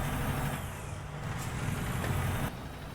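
Truck cab noise with the windows partly down in American Truck Simulator, a steady loud engine drone mixed with wind rush, shifting pitch slightly and dropping abruptly in level near the end.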